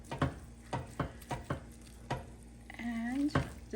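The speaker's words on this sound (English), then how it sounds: "Let's give it a stir." Spoon stirring cut mushrooms into a pot of bigos, a Polish hunter's stew, giving several soft wet scraping and squelching strokes in an irregular rhythm, close by, with a brief tonal kitchen sound near the end.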